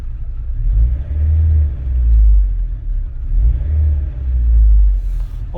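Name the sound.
Rover 216 GTi car engine running while warming up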